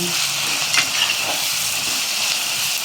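Chopped onions with a pinch of black pepper fry in hot oil until brown, giving a steady, close sizzle with occasional stirring scrapes and no talking.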